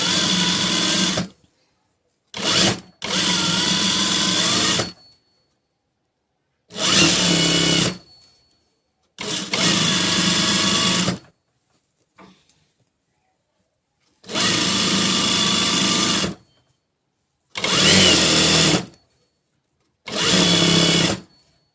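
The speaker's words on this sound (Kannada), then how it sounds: "ಈ ಟೆನ್ಷನ್ ಲೆವೆಲಲ್ಲಿ ಸ್ಟ್ರೈಟಾಗಿ ಒಂದು ಸ್ಟಿಚ್ ಹಾಕೊಬೇಕು" Sewing machine stitching a straight seam on a dori: about nine loud, steady bursts of fast whirring, each lasting one to two seconds, with silent pauses between them. Close and clear, no talking.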